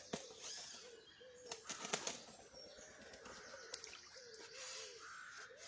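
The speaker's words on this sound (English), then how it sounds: "I've got the pigeons ground baiting for me, which is nice." Pigeons flap their wings around a carp fishery, a run of scattered wingbeat bursts and flutters against a quiet outdoor background, with a few soft bird calls mixed in and no talking.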